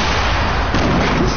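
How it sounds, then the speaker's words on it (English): Grenade blasts in a PS4 online shooter, a dense, loud rumbling explosion filling the short stretch with sustained low-end roar and no clear separate hits. "I'm throwing grenades."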